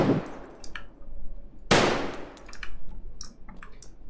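Shotgun blasts ring out in the shooter game Escape From Tarkov: two sharp, loud booms about a second and a half apart, trailed by clattering metallic clicks and scattered quieter noises.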